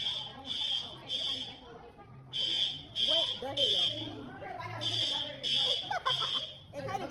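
A hotel fire alarm blares in repeated loud electronic bursts, a harsh high beep pattern with short gaps, while people talk over it.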